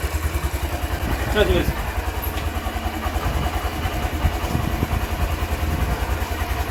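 Motorcycle engine idling steadily after being started without the kick lever, a close low rumble running throughout with brief mechanical clatter partway through.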